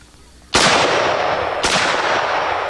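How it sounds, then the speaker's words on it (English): Two loud, close gunshots from an M1A Springfield rifle chambered in .308, each a sharp crack with a long decaying tail, about a second apart. "Now we have our M1A Springfield in 308. Let's see what it looks like."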